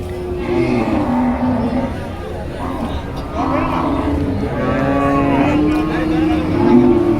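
Heifers at a crowded open-air cattle market in Deohata, Tangail, low in long drawn-out moos several times amid steady crowd murmur and voices.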